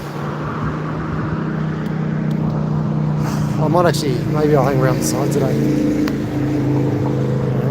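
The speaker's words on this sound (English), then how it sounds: "it's horrible sound here because of all the cars" A low, continuous rumble of cars driving past on a nearby street runs beneath someone talking close up, the traffic noise steady and fairly loud throughout.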